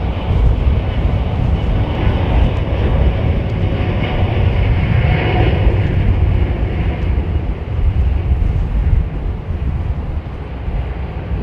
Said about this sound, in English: That's got to be light, that aircraft, surely.